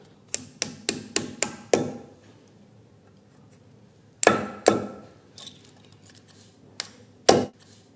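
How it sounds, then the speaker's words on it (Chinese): Expansion bolts in M8, M10 and M12 sizes are hammered into freshly drilled holes: a quick run of five or six sharp metallic blows, then after a pause a few more scattered strikes, close and fairly loud with no talking. "现在我们逐个敲进去看一下"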